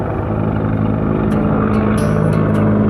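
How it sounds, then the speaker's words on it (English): A loud, steady low engine drone with a throbbing rotor-like hum fills the clip, close and constant, with no talking. "Got a helicopter coming over here"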